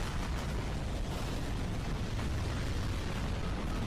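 Rocket explosion in a Skibidi Toilet fan animation, a steady loud, dense roar of blast noise filling the whole stretch without a clear single boom.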